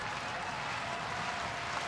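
Sellout baseball stadium crowd of about 43,000 applauding at a Cleveland at Detroit game, a steady, distant-sounding wash of clapping and crowd noise at a fairly soft, even level.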